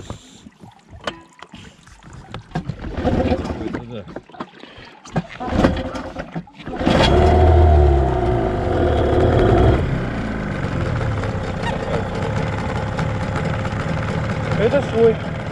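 A Tohatsu outboard motor on a boat at a lake is pulled to start amid clunks and handling noises, then catches and settles into a steady idling drone. Speech is heard in the clip.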